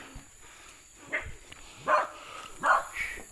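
A dog gives several short barks and yips at mid distance, spaced irregularly over a few seconds, against a quiet outdoor background.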